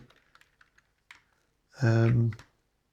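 Scattered light keyboard clicks tap out irregularly at close range, then a voice cuts in briefly and the typing stops.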